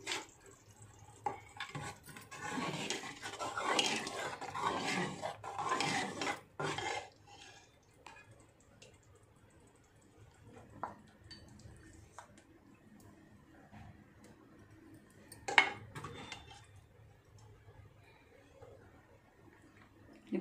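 A spoon scrapes and clatters against a pan while cooked bottle gourd curry is served out, with dense close metallic stirring at first, then sparse occasional clinks and taps.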